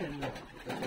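A pigeon in a home loft coos softly, a brief low throaty call heard faintly at close range.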